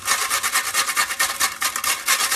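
Food rasps rapidly against the small holes of a hand grater in steady, close back-and-forth strokes, loud and continuous with no talking.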